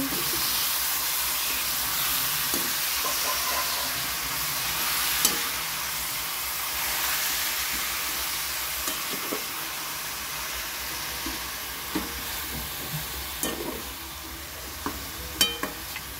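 Chicken curry with salt and turmeric being stirred in a frying pan, a steady loud sizzle and hiss of frying throughout with occasional scraping clicks of the spoon, and no talking.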